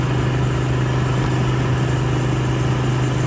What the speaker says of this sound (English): Got the tractor just to move it forward a little bit